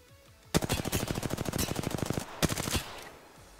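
Rapid automatic gunfire in the battle-royale game Apex Legends, a loud burst of evenly spaced shots for about two seconds, a brief pause, then a shorter second burst.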